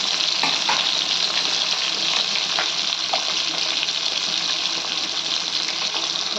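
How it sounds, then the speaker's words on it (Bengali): Pieces of rohu fish frying crisp in hot oil in a pan, a close, steady bright sizzle with a few faint clicks, no talking. "মাছটাকে কড়া ভাজা করতে হবে।"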